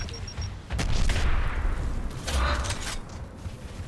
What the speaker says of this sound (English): I hear grenades popping, but I don't see anybody